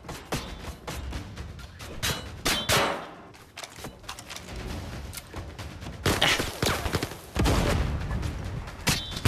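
Gunfire in a VR shooter video game comes as bursts of sharp shots and metallic clangs, some in rapid volleys, loud and near, with brief lulls between clusters.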